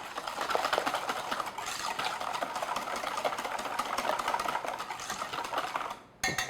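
A whisk beats granulated white sugar into crumb cake batter in a bowl, giving a continuous quiet scraping and rattling with a fast, even rhythm that breaks off briefly near the end.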